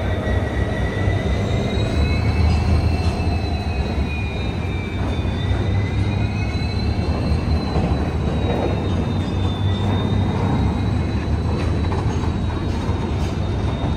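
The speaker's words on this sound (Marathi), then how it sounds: "तर ही ट्रेन आली आणि आपली ट्रेन आहे ही क्रॉसिंग झाली की आता आपण निघूया" A Konkan Railway train passes at a crossing near Madgaon with a loud, continuous rumble of wheels and carriages and thin, wavering wheel squeals above it, steady and close throughout.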